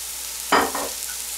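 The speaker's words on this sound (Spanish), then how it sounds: "Vamos a freír un momento. Vamos a darle un poquitín más de aceite" Ingredients hit hot oil in a pan for arroz con pollo, giving a sudden close sizzle and stir that quickly fades to a soft background frying hiss.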